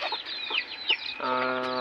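High, rapid peeping of newly hatched chicks mixed with a country hen's clucking, then a sustained, harmonic hen call takes over, close and clear.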